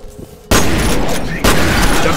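Loud shotgun blasts in the video game F.E.A.R., two sudden booming shots about a second apart, each followed by a dense rumbling tail, with a quiet lead-in before the first.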